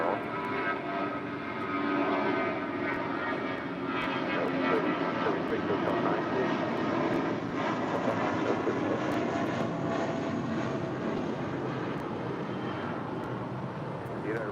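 An airliner, an A320, takes off on runway 25 right at LAX, its engine roar rising and holding loud and close. Rumble and whine continue throughout, with a faint voice underneath.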